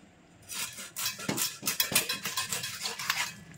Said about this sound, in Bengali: তো দেখো বন্ধুরা এখন মাছটা আমি পিস পিস করে কেটে নেব।